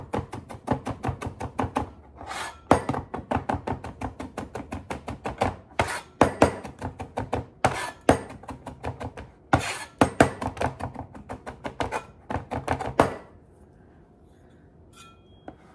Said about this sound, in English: let's start with the ginger. And we'll just mince it nice and fine